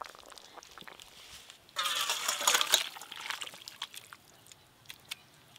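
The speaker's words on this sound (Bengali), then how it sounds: "এবার ঢেলে নেব।" Fish curry broth with bottle gourd leaves, made with pond fish, pours into a bowl in a brief gushing splash lasting about a second, then trickles and dribbles faintly alongside small clinks.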